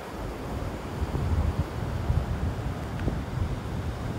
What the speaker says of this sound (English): that wind's really picking up here at the end of the beach